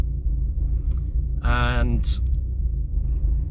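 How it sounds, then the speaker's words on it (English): A Porsche 924 engine idles cold at about 800 rpm with a low, even rumble; a person briefly says a word over it. "As you can see, it's cold, so it's ticking over at about 800 revs"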